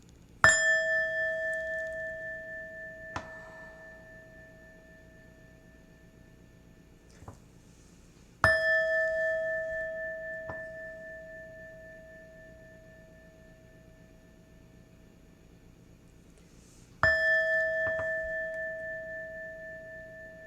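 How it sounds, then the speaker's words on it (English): A singing bowl is struck three times, several seconds apart; each strike rings out clearly with a bright metallic tone that slowly fades in the quiet. "I hit my singing bell 3 times, because my singing bowl, it cleanses"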